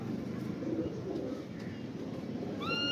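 Pigeons cooing softly at a moderate distance, low murmuring coos over faint outdoor background, with a brief higher bird chirp near the end.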